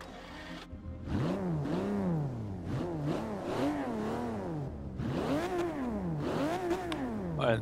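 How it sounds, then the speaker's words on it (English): A 1963 Ferrari 250LM engine in the racing game Forza 6 revs repeatedly, its pitch climbing and dropping in quick, loud sweeps with brief gaps between them, heard on its own with no talking. "look how quick this thing revs"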